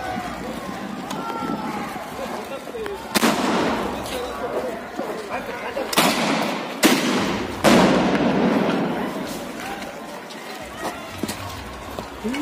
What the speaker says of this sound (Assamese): প্ৰতিবাদকাৰীসকলে য'ত বোমা ফুটাইছে, আনফালে আৰক্ষীৰ তৰফৰ পৰা গুলী ফুটুৱাই তেওঁলোকক ছত্ৰভংগ দিয়াবলৈ চেষ্টা কৰা হৈছে